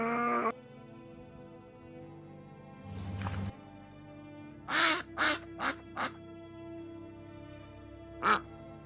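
Cartoonish duck quacks used as a game sound effect: a quick burst of four nasal quacks, then a single quack, loud and close, with brief noise bursts before them.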